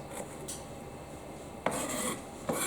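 Knife slicing onions and peppers on a chopping board, with a steady rasping scrape and a couple of sharper cuts or knocks near the end, close and moderately loud.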